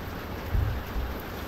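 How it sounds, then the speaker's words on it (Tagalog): Steady rain patters on surfaces in a dense, even hiss, with a couple of soft low thumps and no voices. "maulan na umaga ngayon"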